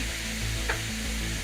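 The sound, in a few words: meat sizzling in a skillet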